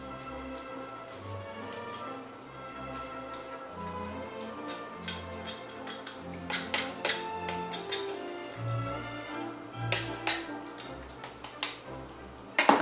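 A knife scrapes down a raw chicken leg bone during deboning, giving soft, irregular wet scraping and squelching close by, in short bursts that grow busier toward the end.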